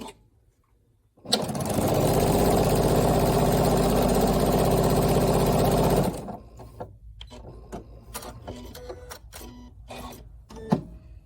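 A sewing machine stitching quilt squares together runs in a loud, steady mechanical whir for about five seconds, then stops abruptly, followed by quieter handling clicks and taps of fabric and the machine nearby.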